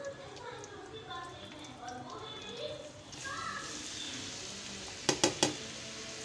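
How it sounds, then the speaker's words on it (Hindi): Chopped onions hit hot ghee in a frying pan left from frying okra, setting off a soft, spreading sizzle, preceded by talking and followed by a few sharp clanks of a utensil against the pan. "अभी जी इसमें हम प्याज डालेंगे"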